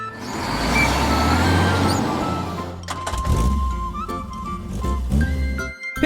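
A heavy rescue truck rumbles loudly with a deep engine drone, then gives a hiss of air brakes and a series of clunks and mechanical knocks as it settles.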